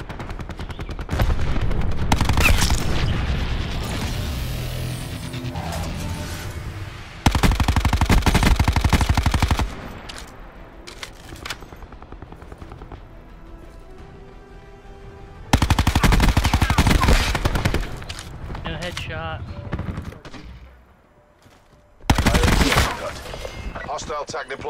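Bursts of rapid automatic gunfire from the video game Road to Dark Matter, loud and close, with sustained volleys separated by quieter stretches of game sound.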